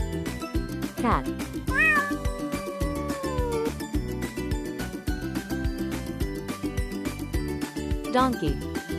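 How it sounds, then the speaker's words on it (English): A cat gives a clear, drawn-out meow, followed later by a shorter one, both heard over light background music. "Cat."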